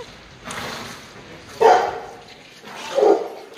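A small dog at a train station gives a few short yips and barks at a distance, separated by pauses, over quiet background noise.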